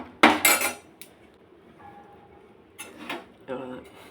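Roasted sesame seeds being tipped from a pan into another vessel, giving a brief loud rattle and scrape of grains and metal at the start, then quiet, followed by a couple more short clinks and scrapes of cookware.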